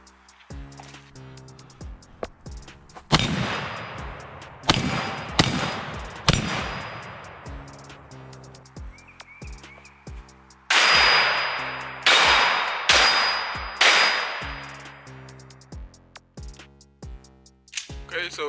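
Shotgun blasts from a home defense drill ring out as loud, sharp cracks, several spaced apart, mixed with metallic clangs and clicks of handling, while a backing music track plays underneath.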